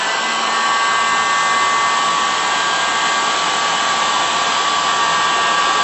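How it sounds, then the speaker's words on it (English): A heat gun blows hot air in a loud, steady, close-up hiss with a constant tone and no pauses. "I'm just moving back and forth across the nozzle of the heat gun."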